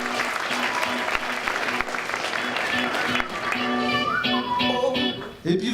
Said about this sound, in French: je pense qu'on peut les applaudir encore une fois bien fort